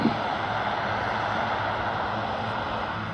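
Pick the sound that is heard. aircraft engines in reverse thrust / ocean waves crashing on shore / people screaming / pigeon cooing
aircraft engines in reverse thrust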